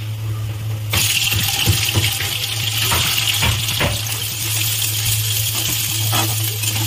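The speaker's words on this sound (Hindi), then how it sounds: "देखिए तेल में हमने सोयाबीन भून लिया।" Soybeans roast in hot oil in a pan, a steady close sizzle with scattered pops and rattles of the beans shifting, under a constant low hum.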